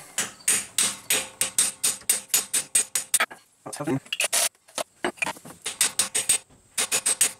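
A hammer taps a harmonic balancer into place on a HEMI engine in quick, rhythmic series of sharp strikes, close up, pausing briefly as someone speaks before the tapping resumes.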